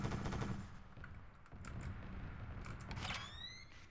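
Automatic gunfire in the ARMA 3 military video game: dense, sustained bursts of shots at close range, with a brief lull mid-way before the firing resumes, ending in a sharp metallic whine.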